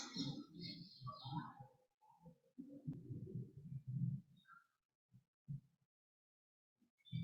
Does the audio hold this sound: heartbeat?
yes